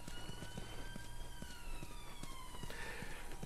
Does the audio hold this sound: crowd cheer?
no